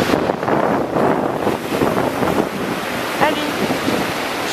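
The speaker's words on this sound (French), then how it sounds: "Si les vagues ne sont pas un peu plus grosses." Sea waves and wind along the winter shore of Patmos, a steady rushing surf with gusty wind buffeting the microphone throughout, fairly loud and close, with no one speaking.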